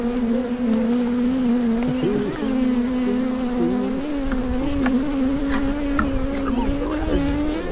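Honeybees swarm around a hive being split during a queen release, giving a dense, steady droning hum close by with individual bees zipping past and a faint voice in the background.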